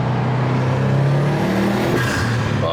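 A Subaru's turbocharged engine and exhaust rev loudly and close up, a continuous throaty roar with a rising and falling pitch.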